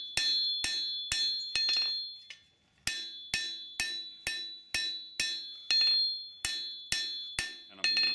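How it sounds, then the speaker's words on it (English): A hammer strikes the edge of a hot steel blade at the heel during forging. Sharp, ringing metallic blows land in a steady rhythm, about a dozen loud, close hits with a brief pause early on. "And you'll see I'm only hammering the edge."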